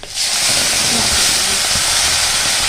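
Chopped onions fry in a hot pan with a loud, continuous hissing sizzle that holds steady from start to finish.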